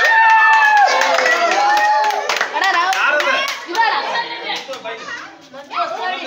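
Applause at a birthday celebration in a school for physically handicapped children in Gabbur, Hubli: a burst of close, loud clapping mixed with children's voices and chatter, with someone speaking over it.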